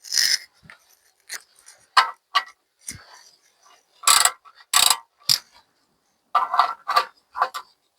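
A ratchet tightens a new sump plug on a Ford Transit with short bursts of sharp clicking pawl strokes close by, separated by brief pauses.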